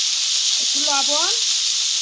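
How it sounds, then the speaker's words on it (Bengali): Cauliflower frying in oil with salt and turmeric gives a steady, close, bright sizzle, and a brief voice rises over it in the middle. "কপিটা আমার ভাজা হয়ে গেছে"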